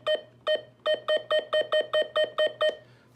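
A weather radio sounds a run of eleven short, identical electronic beeps when its invalid buttons are pressed, a clean tonal pulse repeating at a quick, slightly uneven pace against a faint background hum.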